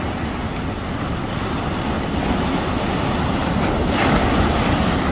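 Ocean waves roll steadily onto the beach at Guryongpo, a continuous loud wash of surf with wind buffeting the microphone, swelling slightly near the end, with no voices.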